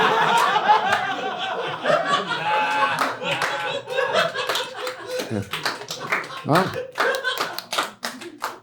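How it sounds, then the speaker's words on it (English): A live comedy audience in a small West Village club bursts into clapping mixed with laughter and scattered hand taps. A comedian talks over it, and the clapping stays loud and close throughout. "I'm glad I got an applause break"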